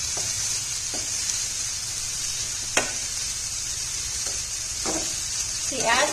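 Onions fry in a pan over a medium flame, giving a constant bright sizzle broken by a few spatula scrapes and stirring knocks, close and fairly loud, with no one speaking.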